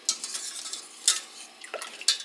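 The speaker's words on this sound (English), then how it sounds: "I'm just going to kind of whisk it around" A whisk working cream cheese and milk in a pan on the stove, giving light metallic clinks and scrapes in an uneven rhythm with a few sharper taps, close by with no talk.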